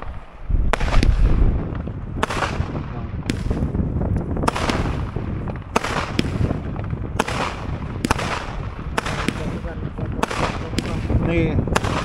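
New Year's Eve fireworks bang repeatedly in the distance and nearby, about a dozen sharp cracks and booms at irregular intervals over a steady rumble, with voices in the background.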